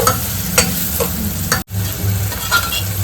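Garlic chilli paste fries in a pan for dal bati, a steady close sizzle broken by scraping stirs of the spoon, with a brief cut of silence midway.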